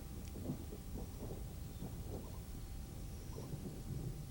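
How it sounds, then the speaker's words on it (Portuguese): Thunder rumbles low and steady over falling rain as a storm sets in on the savanna, a fairly faint, continuous wash with soft spattering and no voices. "Por fim, as chuvas começam para valer."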